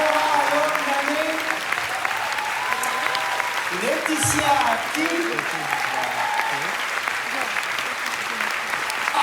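An audience at the Cannes Film Festival applauds the film's actors with steady, sustained clapping throughout, while a voice speaks over it, reading out names.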